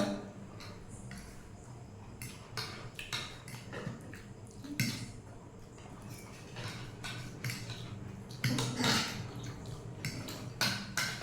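Dishes and metal utensils being scrubbed and washed by hand, with repeated clinks, scrapes and clatters alongside running and dripping water.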